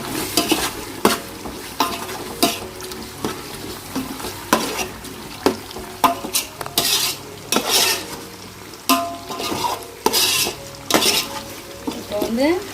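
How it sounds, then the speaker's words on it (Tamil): Chicken stirred and sautéed with masala in a pan, with close, repeated spatula scrapes and clatters over a steady sizzle, and no talking. "சிக்கனை வந்து இந்த ஸ்டேஜில் வந்து இப்போ சேர்த்துருக்கோம்"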